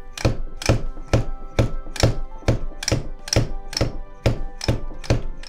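A Roland electronic drum hi-hat pad without its damping washer is struck about a dozen times in an even rhythm, each sharp thunk carrying a rattly vibration, close and clear.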